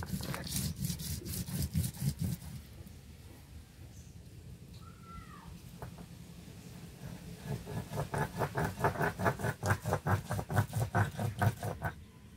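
Mustard seeds, garlic and green chillies are ground into a paste with rhythmic scraping and rubbing strokes, coming in a burst, then a quiet stretch, then a longer run of steady back-and-forth grinding.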